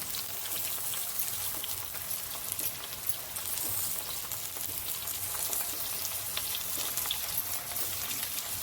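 Golden onions, ginger, garlic and tomato fry in a pan for a simple chicken curry, giving a dense, even hiss like rain that runs close and unbroken, with no voices.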